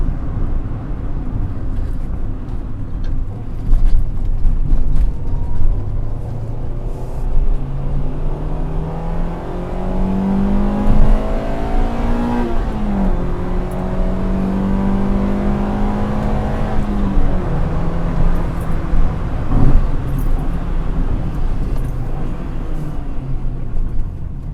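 A manual car engine revving as it is driven and shifted up through the gears to fifth, a loud close rumble with pitch rising and falling between shifts, continuous throughout.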